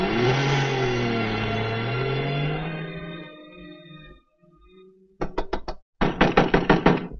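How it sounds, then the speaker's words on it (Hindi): Knocks on a door come as two quick bursts of several sharp raps each, following a fading sustained tone, loud and close with no voices. "सुनीता, दरवाजा खोलो सुनीता।"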